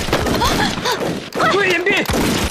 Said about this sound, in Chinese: 开始射击，一个都不放过。